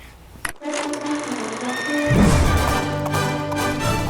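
A horse neighs loudly over a busy background, with hoof clatter and outdoor noise continuing throughout.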